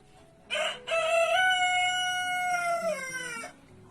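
A rooster crows once, loud and close, a long drawn-out call with a rising start and a falling finish.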